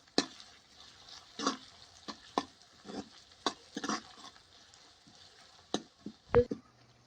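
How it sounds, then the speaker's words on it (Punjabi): Ground spices with red Kashmiri chili being stirred and roasted in a pan for palak paneer: irregular scraping strokes of a spoon against the pan over a soft, faint sizzle, with no voices. "ਹੁਣ ਆਪਾਂ ਇਹਨਾਂ ਸਾਰਾ ਮਸਾਲਿਆਂ ਨੂੰ ਕਰ ਲੈਨੇ ਆ ਚੰਗੀ ਤਰ੍ਹਾਂ ਮਿਕਸ"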